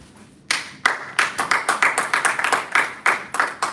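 Applause from a Toastmasters club audience at a Lagos hotel meeting: sharp, fairly loud claps start suddenly and continue in a quick, slightly uneven rhythm, a few hands clapping together in a small room.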